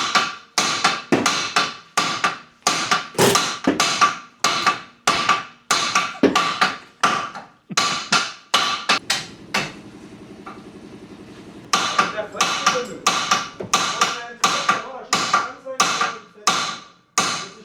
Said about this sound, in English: this is the splitter, huh? I think it's called splitter. Splitter. Just helps to split the knuckle so we can take out the whole strut.